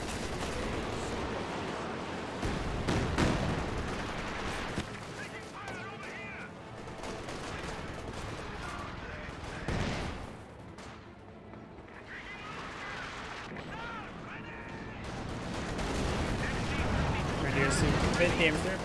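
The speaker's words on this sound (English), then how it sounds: "Here, Katyusha Barrage." A Katyusha rocket barrage in Company of Heroes 2 rumbles on as a dense, continuous roar of launches and impacts, swelling and easing over time, with battle noise layered throughout.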